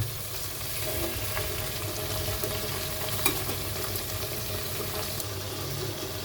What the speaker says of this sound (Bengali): আলুটাকে আপনারা লাল করে ভেজে নেবেন তো আমার আলুটা ভাজা হচ্ছে